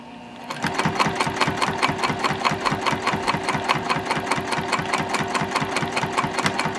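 A sewing machine stitching the closure strap of a zip-top tote bag runs at a fast, even rhythm of repeated needle strokes, close and loud, starting after a brief quiet moment.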